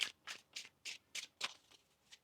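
Tarot cards shuffled in quick riffling bursts, about seven short crisp rustles in a steady rhythm, close and fairly loud with no talking.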